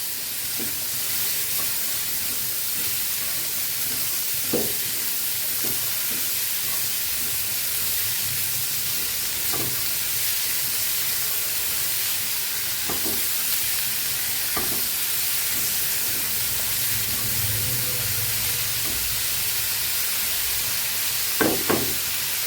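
Chopped bottle gourd cooking in a pan for a Bengali prawn dish, a steady broadband sizzle and hiss with occasional soft stirring knocks throughout.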